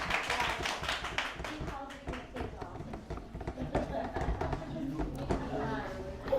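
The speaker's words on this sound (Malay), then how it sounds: "satu tepukan untuk ni" A seated audience at a sharing seminar claps for a volunteer with scattered, uneven clapping, and people's voices mix in among the claps.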